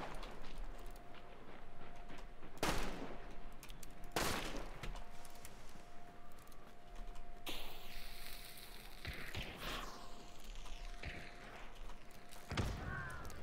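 Gunfire in the video game Hunt: Showdown: a few sharp broadband shots spaced seconds apart over a low steady ambient bed, fairly faint overall with no talk.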